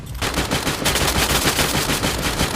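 Rapid gunfire in the mobile battle-royale game Free Fire MAX, a dense, loud stream of shots that starts abruptly and runs continuously for the whole stretch, with no voices over it.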